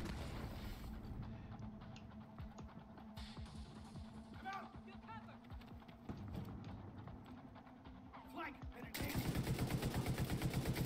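Gunfire from a firefight in The Division 2, rapid cracking shots and bursts running throughout, with a denser, steadier volley of automatic fire near the end, under a player's voice talking.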